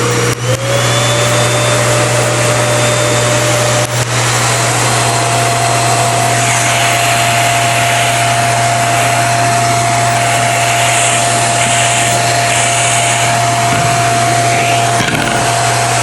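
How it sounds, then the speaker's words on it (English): A small pet grooming vacuum motor hums steadily and loudly on its lowest setting, its whine constant throughout with a brief shift in pitch near the start. "it has 3 different vacuum levels. So that's the lowest."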